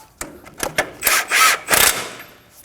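A tool tightens the nut on a tie rod of a Nissan Armada, with several short bursts of close ratcheting and rubbing spaced out over a couple of seconds.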